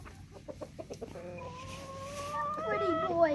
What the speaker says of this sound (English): Roosters don't really do quiet.